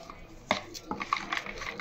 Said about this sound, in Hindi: अब हम चम्मच से इसको मिक्स कर रहे हैं।